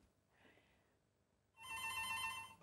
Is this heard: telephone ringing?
yes